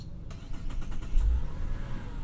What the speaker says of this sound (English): Bringing the car to life